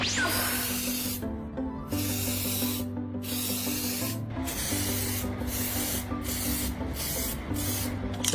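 Robot parts being spray painted: repeated hissing bursts of spray, stopping and starting over a steady droning hum, close and fairly loud with no talking.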